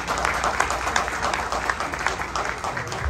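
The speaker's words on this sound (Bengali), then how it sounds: "সবাই পৌশালী ম্যামের জন্য একটা জোরে হাততালি করো।" A crowd applauds steadily for the full stretch, a dense, even wash of clapping with no pauses.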